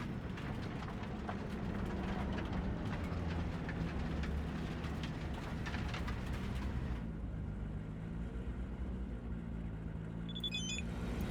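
Train in the Cyberpunk 2077 video game, a continuous rumbling rail roar with rattling, dropping to a lower hum partway through before faint high chiming tones near the end.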